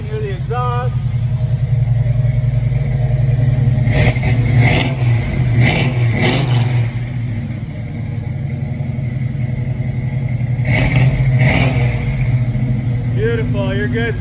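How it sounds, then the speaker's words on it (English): Exhaust of a 1969 Chevrolet Camaro is heard from behind the car, idling loud and close with several short revs throbbing over the burble and a voice speaking briefly. "Jump to the back so you can hear the exhaust."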